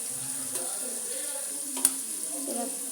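Flat beans (chikkudukaya) fry in a pan with a soft, continuous sizzle, plus a few light stirring knocks and one sharp clink near the middle.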